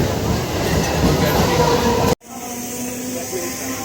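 Loud, steady rumble of a moving train, cut abruptly midway and followed by a quieter, steady train drone.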